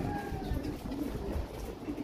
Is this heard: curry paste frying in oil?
no